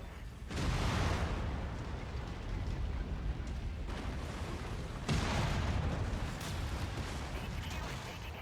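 Heavy weapons fire in a combat video game, a steady roar of booming blasts and rumbling explosions, loud and dense, with a sharp new burst partway through.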